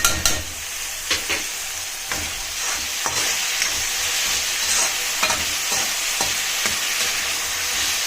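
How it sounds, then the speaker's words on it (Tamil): Ground ginger, garlic and mint paste sautés in a pan for veg biryani, a loud close sizzle with scraping stirs and clacks of a spoon against the pan throughout. "இதில் நம்ம அரைச்சி வச்சுக்கிற இஞ்சி, பூண்டு, புதினா எல்லாத்தையும் வதக்கிக்கலாம்."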